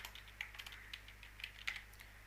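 Quiet computer keyboard typing, a short run of light irregular keystrokes over a steady low hum while an email address and name are entered, with no speech.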